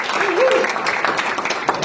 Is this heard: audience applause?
yes